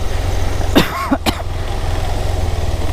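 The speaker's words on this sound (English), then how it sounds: "I think I'm coughing because of all the dust" A couple of short coughs close by, caused by dust on a motorbike ride in La Guajira, over a steady low engine rumble that continues throughout.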